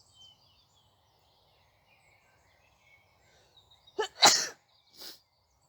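A single sneeze breaks a near-silent room with a sharp burst and a short trailing exhale, followed by a smaller breathy sound.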